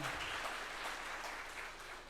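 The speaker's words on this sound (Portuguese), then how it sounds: "Queria que a igreja desse uma salva de palmas na vida desse amado." Church congregation giving a round of applause during a service, a faint, steady wash of clapping heard from a distance.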